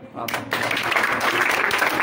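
Audience applause at a school term ceremony swells after a brief quieter start into a dense, steady wash of clapping, loud and close.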